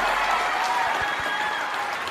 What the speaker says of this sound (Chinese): 让我们一起用掌声有请导师入席。